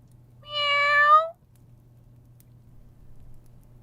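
A single drawn-out cat meow rises and falls close by, lasting under a second, then gives way to a quiet, low background hum.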